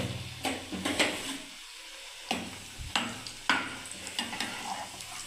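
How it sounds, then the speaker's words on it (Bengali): Pea-stuffed luchi frying in hot oil in a wok, a steady sizzle broken by sharp clinks and scrapes as the puffed breads are lifted and strained, with no voices. "এবার আমি ছেঁকে দিচ্ছি বন্ধুরা লুচিগুলোকে।"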